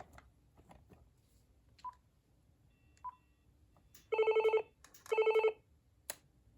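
Two loud, steady touch-tone dialing beeps from an early-1990s desk phone sound one after another over a quiet room with faint clicks and handling noises.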